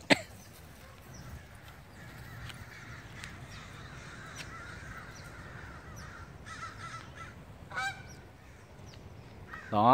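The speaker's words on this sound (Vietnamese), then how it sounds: "Đó, quạ với vịt á." Crows caw and wild ducks call at a lake in the USA, a few distant calls scattered over steady outdoor ambience, with a louder burst of calling near the end.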